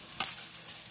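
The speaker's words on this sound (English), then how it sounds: "They're still sizzling." Peppers sizzle in a hot pan, a bright hissing fry with a brief stirring scrape near the start, close and fairly soft.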